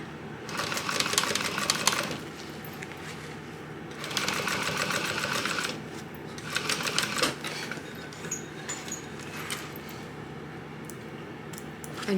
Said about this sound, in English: I'm going to top stitch this, and I put my stitch length back to that long stitch length.